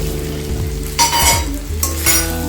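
Potato and pumpkin curry fries with turmeric in a pan, a close sizzle broken by two bursts of scraping and clinking as the pot is stirred.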